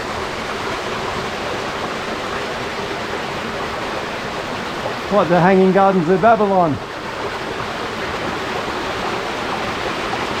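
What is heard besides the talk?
water flowing from under boulder into cave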